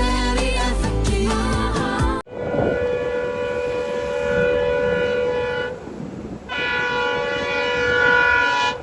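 A train runs on the new Pamban rail bridge during a trial run. A brief burst of music gives way to loud, sustained horn-like tones over a steady rumble, with a short dip midway before the tones return.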